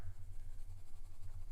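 Black pencil shading dark tones on paper for an optical illusion hearts drawing, a steady close scratchy rubbing of graphite strokes repeating in quick rhythm, heard alone without talk.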